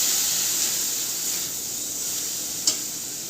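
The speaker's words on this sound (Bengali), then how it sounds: "একদম মিডিয়াম টু লো ফ্লেমে সেটাকে হালকা করে ভাজতে হবে" Drained rice fries gently in a pot over a medium-low flame, a soft steady hiss with one brief clink near the end.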